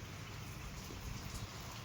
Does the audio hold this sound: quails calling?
no